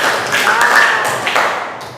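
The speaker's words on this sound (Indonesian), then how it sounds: "tepuk tangan dulu." A class of students claps their hands together in a classroom, a short burst of quick, slightly uneven slaps that fades over about two seconds.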